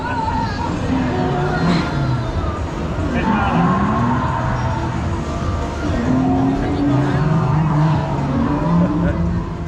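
Race cars on a track at Great Yarmouth, their engines droning and whining steadily through a busy outdoor scene, with pitch sweeps as cars pass amid crowd noise and speech.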